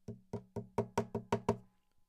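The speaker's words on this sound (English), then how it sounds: "You can even tap on the guitar" A hand taps on the wooden body of a guitar, drum-style. Eight close, hollow knocks come in a steady rhythm, then stop, with no talking.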